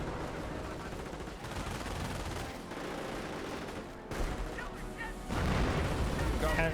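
Artillery fire and gunfire in a Company of Heroes match, a dense continuous barrage of booms and shots with louder heavy blasts near the end.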